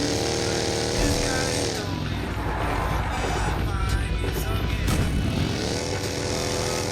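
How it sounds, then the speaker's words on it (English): Motorcycle engine in a battle royale video game, a steady droning rev that rises and falls continuously under game sounds and voices talking. "oh, there's a bike."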